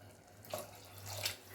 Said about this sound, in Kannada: ಇವಾಗ ನಾನು ನೀರು ಸೇರಿಸ್ಕೊತಾ ಇದ್ದೀನಿ.